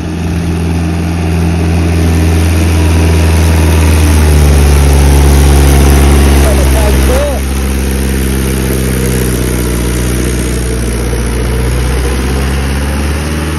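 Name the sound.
Mahindra 575 DI XP Plus tractor engine idling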